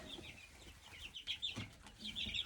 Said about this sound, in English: let's see if this chick will go for a little bath